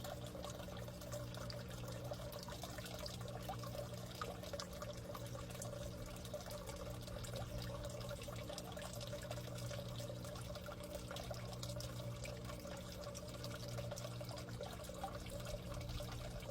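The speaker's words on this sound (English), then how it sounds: "the water's coming out stronger now because it's getting hot" Water flowing steadily out of a pipe in a DIY solar-powered aquaponics setup, a faint continuous trickling pour with no breaks, no talking, and a low hum beneath it.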